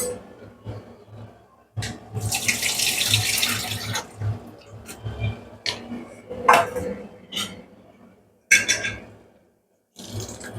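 Water from a tap runs in bursts while soya chunks are washed and drained in a kitchen sink, with splashing surges separated by short pauses and light clinks.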